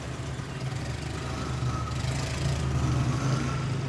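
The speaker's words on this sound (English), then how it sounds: "couple side-by-sides, possibly 4-wheelers." Side-by-sides and four-wheelers head up to a trail, their engines giving a steady, fairly loud low rumble that swells slightly as they pass, with no voices over it.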